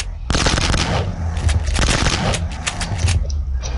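Rapid, continuous automatic gunfire mowing down zombies in the video game Box Head 2, loud dense bursts of shots with booming impacts, dominating the scene.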